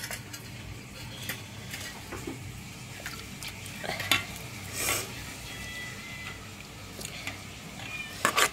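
Fish curry stirred in a pot with peanut oil, giving a low continuous sizzle with scattered scraping and clinking of the spoon against the pot, fairly quiet.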